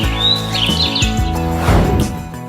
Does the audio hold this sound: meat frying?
no